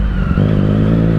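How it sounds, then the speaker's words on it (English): A Ducati Monster 821 motorcycle on a first gear run, its engine a loud, close, steady rumble throughout the short burst. "Just gonna do these first gear runs."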